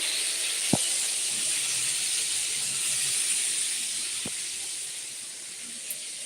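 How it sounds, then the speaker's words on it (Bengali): Onion and pointed gourd fry in a pan for a light egg and vegetable curry, making a steady hissing sizzle that fades slightly near the end, broken by two sharp knocks. "না চলো এটা ভাজা হোক"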